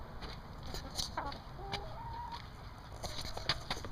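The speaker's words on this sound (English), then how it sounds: "Let's see what the chicken does." Chicken clucks and short calls come in scattered bursts over steady background noise, with no voices.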